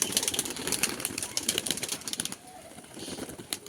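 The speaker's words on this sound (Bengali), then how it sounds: "তো এবার কাকা সব পায়রা ছেড়ে দিচ্ছে।" A flock of pigeons let loose, wings clattering in a dense rapid flutter that thins out after a couple of seconds, with faint cooing and background noise, no voices.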